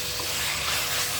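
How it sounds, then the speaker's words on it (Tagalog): Chicken pieces sautéing in hot oil with ginger and garlic give a steady, close, even sizzling hiss throughout, with no voices. "Isunod natin ang chicken. Ayan. Gisa lang natin."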